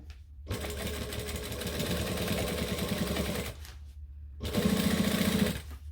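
A sewing machine stitching and back stitching a bag runs in two close, loud bursts, a rapid mechanical chatter with a short silent gap between them and no talk.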